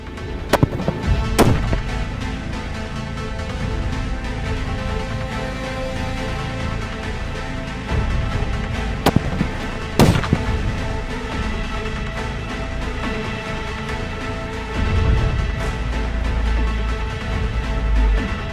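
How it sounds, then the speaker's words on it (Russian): A French .50 BMG rifle fires armor-piercing incendiary tracer rounds at a barrel outdoors, giving a few sharp, loud reports spaced apart over steady background noise, with no talk. "50 БМГ зарядил и стреляю по бочке."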